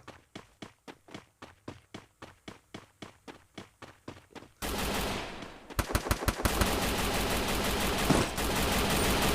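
Rapid bursts of automatic gunfire from the Free Fire video game, a steady run of sharp regular shots followed by denser, louder sustained firing and clattering rounds, close and prominent with no talking.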